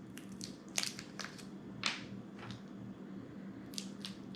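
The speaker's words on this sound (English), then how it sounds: "I'm just going to go ahead and unwrap 3 of these Tootsie Rolls" Candy wrappers crinkle as three Tootsie Roll chewy candies are unwrapped, giving scattered sharp crackles over a low steady hum, close and fairly faint, with no voices.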